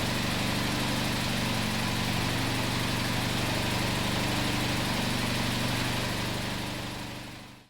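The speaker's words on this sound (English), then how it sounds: "I like to use around about a second to look at an engine at idle to see a repeating pattern" A car engine idles steadily on its own, a constant low mechanical hum with a repeating pulse, close and even throughout before fading out at the very end.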